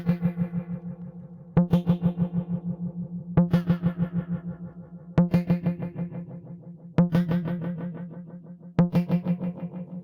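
A plucked, distorted tone repeats in six evenly spaced bursts, each ringing out with a wash of modulated reverb from an SSB Supernova effect that shimmers and wobbles as it decays.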